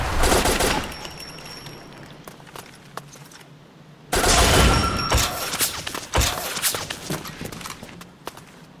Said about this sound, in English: Shoot the barrel